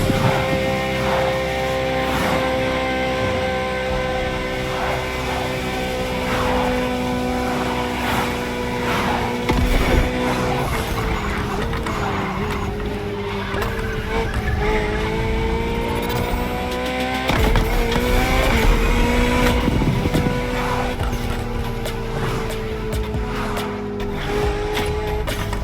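A 2002 Ferrari Enzo's engine in The Crew Motorfest racing game, revving and shifting at high pitch with rising and falling tones and brief tire squeal, loud and continuous throughout.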